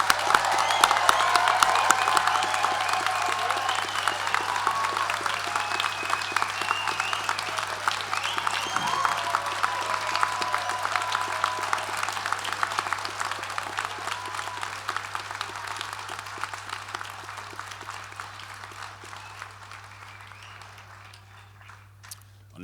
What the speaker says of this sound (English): let's raise the roof with a final round of applause to congratulate our graduates